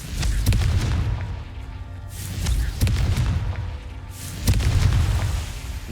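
Confringo blasting spell in Hogwarts Legacy, heavy booming explosions landing in a repeating rhythm, roughly one every second or so, each with a deep rumbling low end that swells and fades close by.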